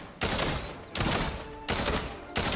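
Two-round burst pistol in Fortnite Save the World with a raised fire rate, firing four loud close volleys at a steady pace, each one a dense rattling spray, no talk.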